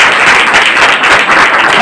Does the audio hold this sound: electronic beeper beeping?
no